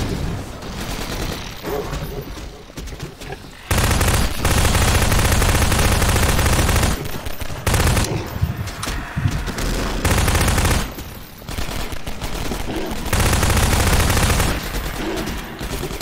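Heavy gunfire in the video game Half-Life 2 Episode One: loud bursts of rapid automatic fire and booming shots arrive in several dense waves with brief quieter gaps between them.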